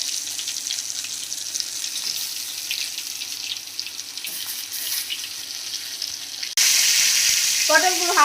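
Stuffed pointed gourds (potol) going into hot oil in a kadai, a close, steady frying hiss that jumps to a louder, brighter sizzle near the end.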